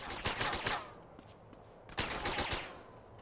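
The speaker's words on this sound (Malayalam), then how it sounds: "എവിടെ നിന്നാണ് ഈ വെടി വെക്കുന്നത് തന്നെ?" Gunfire in GTA San Andreas comes in two rapid bursts of shots separated by a brief lull, crisp and moderately loud.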